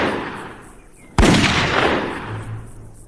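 A single sharp gunshot fires close by, a loud crack followed by a rolling echo that fades slowly, preceded by a quieter rumbling background.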